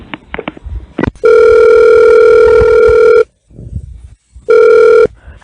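A telephone rings loudly and close by in two long electronic bursts separated by a pause, preceded by a few clicks and handling noises.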